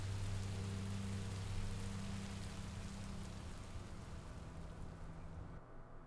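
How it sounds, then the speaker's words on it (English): Steady rainfall in the video game Minecraft: Story Mode, a dense continuous hiss with a low rumbling bed, moderately loud and unbroken, thinning slightly at the very end, with no talk. "Rain is better than monsters."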